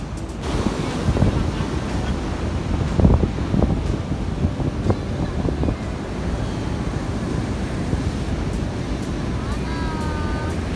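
Surf washing steadily onto Pasir Putih beach at Ujung Genteng, a continuous broad roar of waves with wind buffeting the microphone, a brief louder surge near the third second, and faint tonal chirps toward the end.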